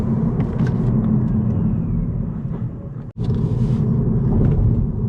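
Opel Astra Hybrid 145 facelift driving at night on electric power only, giving a steady, smooth low rumble of road and tyre noise with a faint whir that stays constant apart from one brief dip.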